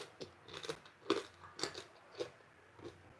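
Homemade potato chips being crunched while eating, a series of crisp bites and chewing crackles spaced through the moment, close and fairly quiet, with no talking.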